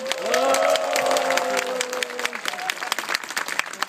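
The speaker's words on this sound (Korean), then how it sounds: "우리 철주야 공영방송을 위해 투쟁하고 있는 목소리 오남매에게 큰 박수 부탁드립니다" Crowd applauding at a Korean rally backing MBC public broadcasting staff on strike, steady clapping mixed with cheering voices and a held tone early on, thinning slightly toward the end.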